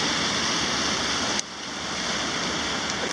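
Water pours steadily from the Paulina Lake outlet at the dam, a constant broadband rushing wash that stays loud throughout with one brief dip.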